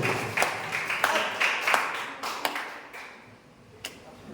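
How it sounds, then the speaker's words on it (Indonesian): Scattered hand clapping from an audience at a high-school Islamic knowledge quiz final, a series of sharp claps in an uneven rhythm that thins out toward the end, fairly close and moderately loud. "Lagi-lagi tepuk tangan lagi yang mulia."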